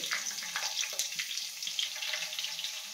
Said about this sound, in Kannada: ಸಾಸಿವೆ ಜೀರಿಗೆ ಎಲ್ಲ ಸಿಡ್ದಿದೆ